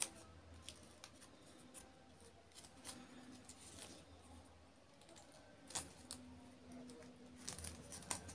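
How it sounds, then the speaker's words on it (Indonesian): Scissors trimming the excess from dried coconut leaf folded into a flower, giving scattered short crisp snips and rustles close by, fairly quiet, with no talk. "Kita gunting lebihnya ini teman-teman."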